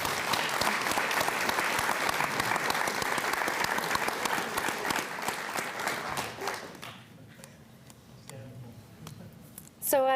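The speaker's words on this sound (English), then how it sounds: "let's give a hand of applause for Mike." Audience applause at an astronomy club's monthly meeting and annual general meeting, sustained clapping from a seated crowd in an indoor hall that fades out after several seconds, followed by quiet room sound and brief talk.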